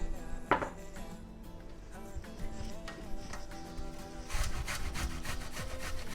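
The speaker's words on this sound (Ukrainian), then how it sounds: "Натерли нашу цибульку" An onion is rubbed against a hand grater, a close, steady rasping scrape repeating in quick strokes that grow busier toward the end.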